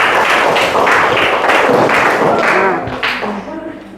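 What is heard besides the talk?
applause, clapping hands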